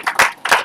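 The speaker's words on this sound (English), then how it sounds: "Round of applause for them." Applause at a launch event, a short burst of hand claps heard up close, two quick clustered bursts.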